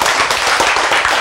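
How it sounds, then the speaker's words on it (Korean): A church audience claps in dense, steady applause during a Korean sermon, loud and continuous with no talking over it. "박수!"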